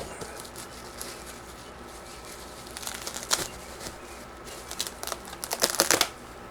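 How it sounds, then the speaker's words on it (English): Crinkling plastic wrapping pulled off the parts of an Uzoli EM3390 multi-point weather station, soft rustles at first building to louder crackling bursts near the end. "So let me get all this stuff unwrapped"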